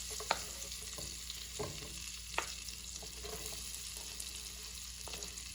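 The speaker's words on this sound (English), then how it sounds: "I'm going to drop the onions in." Onions drop into a pan on medium heat and fry with a steady, quiet sizzle, broken by a few sharp clicks of a utensil stirring them, with no talking.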